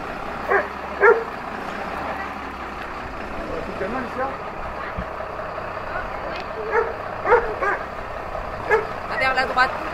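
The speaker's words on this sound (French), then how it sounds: "Les chiens." Dogs bark and yip in short bursts at a border crossing between Argentina and Chile, over steady vehicle noise with reversing beeps, moderately close, while people talk.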